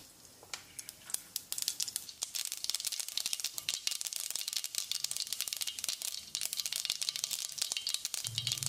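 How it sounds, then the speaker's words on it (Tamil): Mustard seeds, half a teaspoon in about 1.5 tablespoons of oil in a kadai, spluttering and popping for a rasam tempering, with dense rapid crackles and sharp pops running steadily throughout at close range. "கடுகு பொரிஞ்சிருச்சு."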